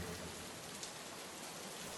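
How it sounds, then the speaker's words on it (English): Soft, steady rain patters evenly as a faint background layer, a continuous hiss of drops with no voices, added beneath lo-fi music. "Gonna add some rain in the background, some like lo-fi music."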